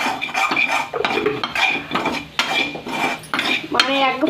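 A utensil stirs egg fried rice with turmeric in a pan, making close, repeated metallic scrapes and clinks at an uneven rhythm, fairly loud, with no talking.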